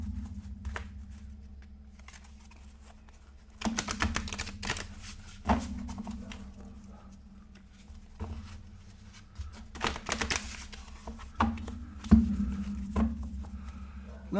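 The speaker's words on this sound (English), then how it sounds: "We're just going to shuffle these up until they're well shuffled." Game cards shuffled by hand in repeated riffling bursts of dry, papery flicking, close and moderately loud, with brief pauses between rounds and a low background hum.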